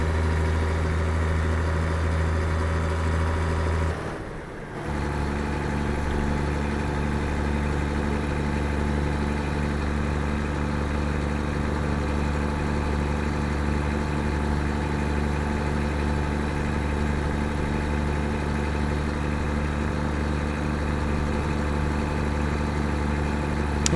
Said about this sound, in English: The sound of the American trucks sound a lot better than the European ones.